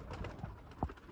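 Sialkoti rooftop pigeons give a short, low coo near the end, with a soft earlier murmur against quiet background noise.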